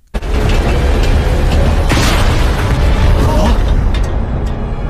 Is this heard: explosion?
yes